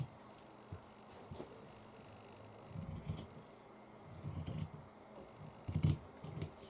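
Scissors cut around a sewn greeting card with a handful of faint, sparse snips spread through a quiet room, growing slightly louder toward the end.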